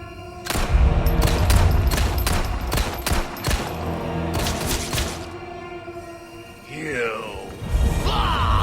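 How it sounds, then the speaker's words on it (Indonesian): Rapid bursts of gunfire from the video game Resident Evil 4 Remake ring out loud and close in quick volleys, followed by crashing impacts and a low growling creature voice. "Tembak-tembakan yuk, tembak-tembakan berdua ayo."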